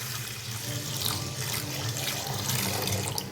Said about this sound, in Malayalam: ഇതേപോലത്തെ ഒരു മുന്തയിൽ വെള്ളം ചേർത്ത് കൊടുക്കുന്നുണ്ട്.